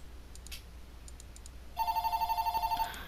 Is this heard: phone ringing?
yes